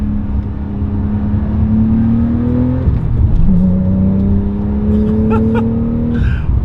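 2017 Porsche 911 Carrera GTS on a test drive, its engine pulling hard through a rising whine, briefly dropping at a gear change, then climbing again, loud and close from inside the car.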